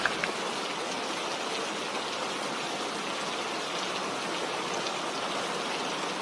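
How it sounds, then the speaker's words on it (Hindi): Steady, dense downpour of heavy rain at night in a village, a continuous broadband hiss with no voices, constant and loud throughout. "बारिश बहुत तेज हो गई है।"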